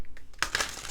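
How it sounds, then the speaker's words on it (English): Oracle cards shuffled for a tarot-style reading: a faint rustle at first, then a dense burst of crisp papery riffling and crinkling for the second half, with no voice over it. "Let's shuffle and get you another oracle card."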